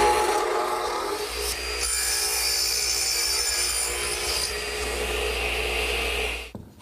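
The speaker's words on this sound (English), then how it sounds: "I use my miter box to cut the 30-degree angles and my radial arm for the" Wood is cut for 30- and 60-degree angles with a miter box or radial arm saw, a loud, continuous rasping and whining saw sound that runs almost the whole time and then cuts off abruptly.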